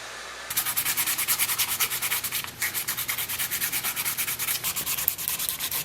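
Kydex knife sheath edges being sanded by hand, a close, loud series of rhythmic rubbing strokes that starts after a brief pause and runs steadily, two or three strokes per second, with no talking.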